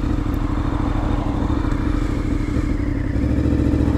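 A Honda VFR750 motorcycle engine idles steadily with the choke off, a close, continuous low rumble with a fine mechanical clatter and no talk over it.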